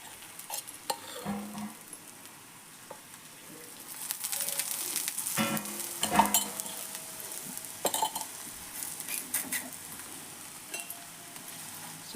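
Thalipattu made from leftover rice fries in a pan with more oil added, a gentle sizzle that swells midway, with scattered utensil scrapes and clinks.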